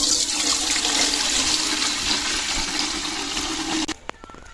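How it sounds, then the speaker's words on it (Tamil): Water gushes steadily into a cooking pot in a home kitchen, a loud continuous pour that stops abruptly near the end, followed by a few small clinks. "தேவையான அளவு தண்ணி ஊற்றிக்கலாம்."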